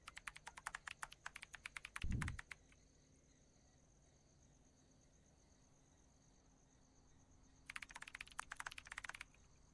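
Rapid mechanical keyboard typing clatters in two bursts in the horror video game Mother's Eye, separated by a quiet stretch with a faint hum and a single low thump.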